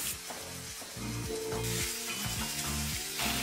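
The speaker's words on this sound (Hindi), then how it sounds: "इसे पका लेंगे जब तक हमारा आलू नहीं गल जाता और सब्जी अच्छे से भून नहीं जाती" Potatoes and vegetables sizzle loudly in a pan with sabzi masala, a steady close frying hiss with intermittent scraping and stirring strokes throughout.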